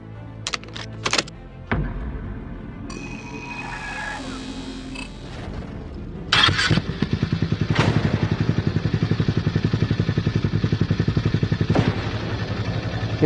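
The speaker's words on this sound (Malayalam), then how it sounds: "ഹീറോൻ്റെ മാർവിക് 440ൻ്റെ എക്സോസ്റ്റ് നോട്ടും അവർ റിവീൽ ചെയ്തിട്ടുണ്ട്" Hero Mavrick 440 motorcycle exhaust, heard close: a few clattering knocks and a whooshing passage give way to a steady, rapid, rhythmic thumping engine note that holds to the end.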